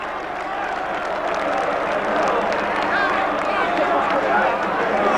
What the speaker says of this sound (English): getting a great reception from this Tottenham crowd